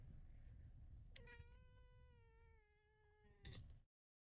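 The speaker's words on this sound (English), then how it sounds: "I don't know if you can hear her growling at me or" A single long, drawn-out cat yowl rises from quiet and holds for a couple of seconds. It ends with a brief sharp rustle, close by.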